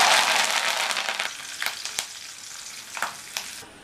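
Curry leaves hit hot oil with a loud, crackling burst of sizzling that gradually fades, followed by a few sharp pops and spatters.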